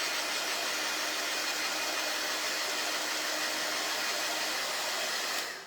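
A hair dryer blows steadily at close range, its loud, even whoosh running continuously for several seconds during a budget fall home decor craft project before cutting off abruptly at the end.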